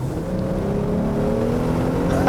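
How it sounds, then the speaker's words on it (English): Steady, loud wind roar and buffeting fill the cabin of a 2018 Jeep Wrangler 3.6L driving with its roof panels removed, with continuous engine and road rumble underneath and no breaks across the stretch. "the wind buffeting in here is surprisingly loud"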